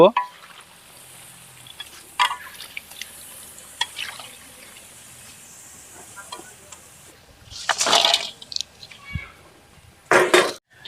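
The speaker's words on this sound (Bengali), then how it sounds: "কড়াইয়ের মধ্যে বড়াগুলো খুব সুন্দর করে দিয়ে দেব বড়াগুলোকে খুব সুন্দর করে নাড়াচাড়া দিয়ে নেব" Palm fruit fritters fry in oil in a wok, a soft low sizzle broken by a few sharp bursts of stirring and scraping, the loudest clusters arriving late and close.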